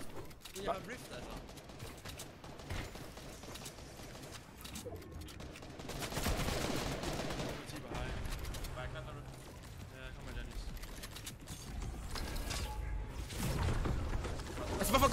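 Video game gunfire from a competitive Razer Cup battle royale match, bursts of shots and impacts rolling under near-constant team chatter, growing denser and louder midway.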